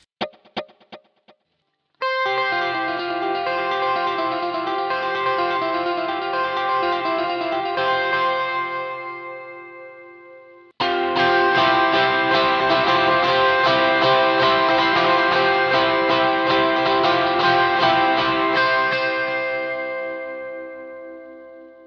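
Electric guitar through a Boss GT-1 dotted eighth note delay at 126 BPM repeats notes in fast, shimmering echo patterns, building into a dense rhythmic wash; a few plucked notes open before it swells.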